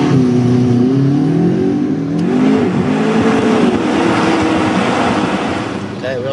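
A McLaren sports car engine revs and accelerates, a loud, close roar whose pitch rises and wavers over several seconds, with voices audible over it.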